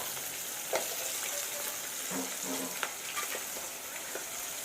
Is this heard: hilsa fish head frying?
yes